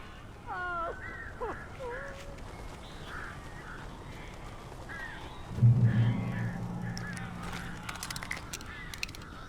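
Strange birds in Alan Wake give a few harsh cawing and honking calls early on, then a louder burst of flapping and calling midway, heard indoors against a quiet, hissing room tone.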